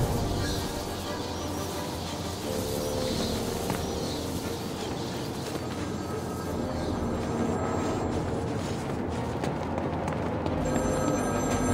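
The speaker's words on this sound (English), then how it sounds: "There's a phone ringing somewhere." Repeated telephone rings trill somewhere in a gritty Batman: Arkham City game environment, each burst of ringing recurring amid a busy ambient background, fairly faint and distant rather than close.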